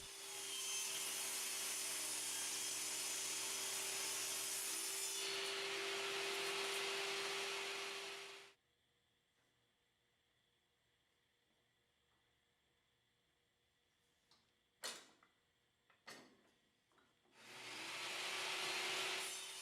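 A table saw with a finish blade cutting wood across the grain on a sled, a loud steady whine with cutting noise for several seconds, then quiet with a couple of sharp knocks before the saw spins up again.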